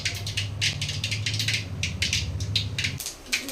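Mustard, cumin and fennel seeds splutter in hot oil, a rapid run of sharp crackling pops in bursts with a low steady hum beneath, close and fairly loud.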